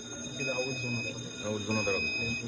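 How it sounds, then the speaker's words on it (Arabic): First-stage alarm of a clean-agent (NOVEC 1230 / FM-200) gas fire suppression system during an activation test, a steady electronic tone sounding beneath continuous nearby male speech. "كده الانذار الاولاني اشتغل"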